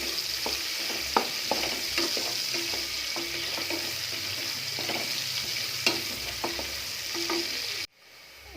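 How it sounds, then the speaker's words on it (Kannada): Onions roasting in oil in a pan for tomato bath, a steady close sizzle with scattered ticks and clinks from stirring, cutting off abruptly near the end. "ಈರುಳ್ಳಿ ಸ್ವಲ್ಪ ಕೆಂಪಗಾಗೋವರೆಗೂ ರೋಸ್ಟ್ ಮಾಡಿ."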